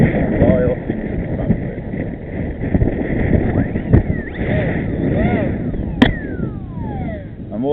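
Wind gusting outdoors across a microphone on a grassy field during a model plane flight, a steady loud rumble with a speaking voice over it and a brief whine.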